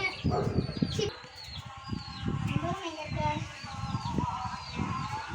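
Chickens cluck and squawk close by while people talk over them, with bird chatter and calls continuing throughout.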